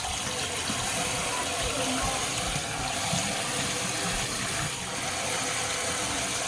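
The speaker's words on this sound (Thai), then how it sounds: "ก็ล้างทำความสะอาดเนื้อปลาอย่างนี้นะคะ" Tap water runs steadily and loudly while sea fish meat is rinsed and cleaned under it, making a constant splashing gush from start to end.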